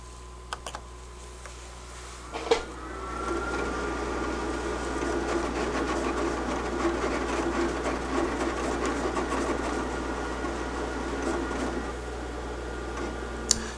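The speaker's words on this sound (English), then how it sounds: "simply press the Send to Cutter button to begin the cutting process" A Graphtec CE6000 vinyl cutter cuts a design, giving a steady mechanical whir with a carriage hum and small clicks. It runs continuously at moderate volume after a brief sharp knock near the start, with no talking.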